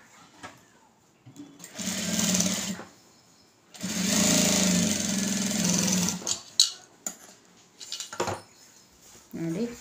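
An electric sewing machine stitches a lined blouse in two sustained whirring runs of about two seconds each, separated by a pause, followed by scattered clicks and fabric handling.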